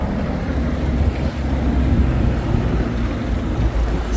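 Strong winter wind buffets the microphone outdoors in sub-zero cold, a loud, continuous low rumble that surges and dips without a break.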